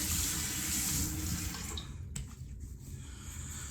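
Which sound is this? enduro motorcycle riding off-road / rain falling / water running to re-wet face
water running to re-wet face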